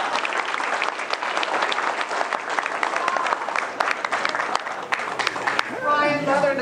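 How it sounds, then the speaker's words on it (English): Applause from the audience at an October 2015 Bolivar community meeting on the beaches, with dense, sustained clapping for about five seconds before it fades out and a voice starts speaking. "Let's give a round of applause to our Bolivar beautiful friends."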